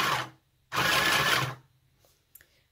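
A mini sewing machine stitching fabric whirs in two close bursts, a short run and then a longer one, followed by quiet and a couple of faint clicks.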